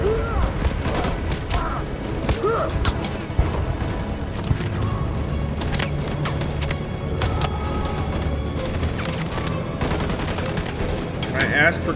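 Heavy gunfire in Detroit: Become Human, bursts of rapid automatic shots and single cracks running throughout, loud and close, with voices shouting faintly underneath.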